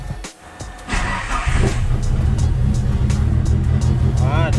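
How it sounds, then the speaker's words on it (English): A Mitsubishi Lancer Evolution 8 engine turns over and settles into a loud, steady idle rumble after a brief quiet start, with faint voices mixed in. "I usually let the car run, especially this one, for at least 10 to 15 minutes."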